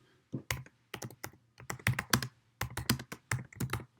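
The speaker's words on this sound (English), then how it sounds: "you can just click in there and type anything you want" A computer keyboard is typed on nearby in quick clusters of clicky keystrokes separated by short pauses, with no talking.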